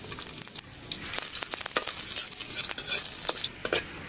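Garlic sautéing in a hot pan on a tinola egg dish's base, a bright steady sizzle with spatula scrapes and stirring taps, close and loud, no voices.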